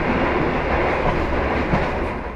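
Sancaka Utara passenger train running on the rails, a loud, steady, dense rumble of wheels and track noise that fills the whole clip from up close, with no talking.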